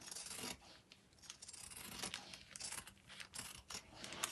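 Scissors snip through fabric while cutting out a small espadrille pattern piece, giving soft, irregular slicing and rustling strokes close by, with no talk.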